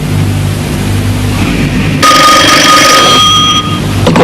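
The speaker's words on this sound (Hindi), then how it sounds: "ये टेलीफोन की आवाज नहीं लगती है, टल्ली की आवाज है।" A telephone bell rings loudly and close, a bright metallic trill over a steady low hum.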